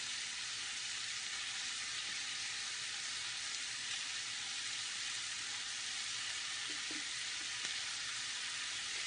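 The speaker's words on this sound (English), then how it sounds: "Now we're going to add our squash and let it cook in here too." Squash sizzles steadily in a hot pan of Italian sausage casserole, a constant broadband frying hiss at moderate level throughout, with a few faint clinks near the end.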